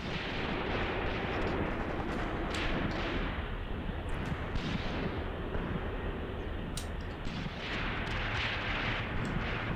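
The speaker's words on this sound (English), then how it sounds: "And some heavy artillery getting called in up here." Heavy artillery fire in Graviteam Tactics, a dense, continuous barrage of booming blasts and rumbling impacts that stays loud throughout, with scattered sharper cracks layered over a thick low roar.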